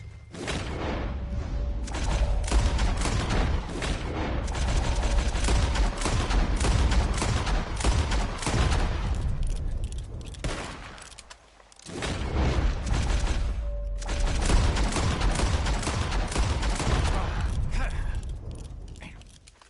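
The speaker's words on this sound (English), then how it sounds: "As soon as you see them, start shooting." Gunfire in a shooting contest in the video game Red Dead Redemption comes as dense, continuous bursts of shots and clatter over two long stretches, broken by a brief quiet gap, loud and busy throughout.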